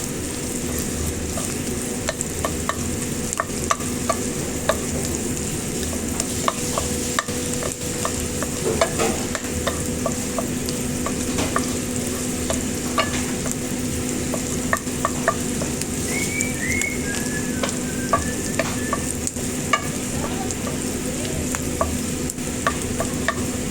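Onion frying in butter in a pan for spicy beef with broccoli and carrots, a continuous bubbling sizzle up close with frequent light scrapes and taps of a utensil stirring, and no voices.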